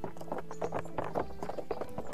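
Horse hooves clip-clop steadily while riding in the medieval game Kingdom Come: Deliverance, a quick, even rhythm of close, distinct footfalls.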